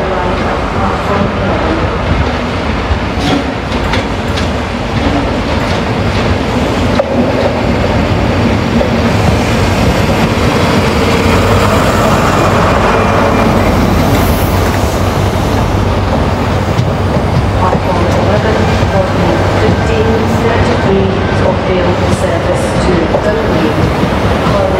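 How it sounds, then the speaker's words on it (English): Train arriving at Edinburgh Waverley station, a ScotRail service from Glasgow Central, with continuous loud rumbling and wheel noise filling the busy station throughout. "ScotRail service from Glasgow Central will now arrive at platform"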